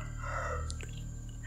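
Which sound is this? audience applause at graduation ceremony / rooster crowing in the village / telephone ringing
rooster crowing in the village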